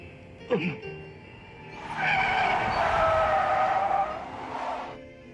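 A car brakes hard to a stop in a 1987 Hong Kong action film, its tires skidding and squealing in a loud, sustained screech of several seconds that fades at the end, after a brief shout.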